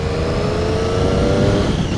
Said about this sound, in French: la machine qui part tout de suite dans ce sifflement, ce ronronnement typique des trois cylindres